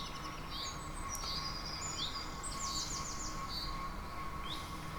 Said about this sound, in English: The bird song in the background is, although it's a generic bird song sound file I downloaded